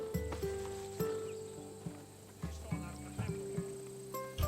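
Horse hooves clip-clopping at a walk in the ancient Greek world of Assassin's Creed Odyssey, distinct evenly spaced steps close by with an occasional snort and soft background music.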